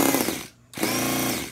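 An electric starter spins a Toyan FS-B400 model engine in two short whirring bursts, loud and close, separated by a brief gap of near silence.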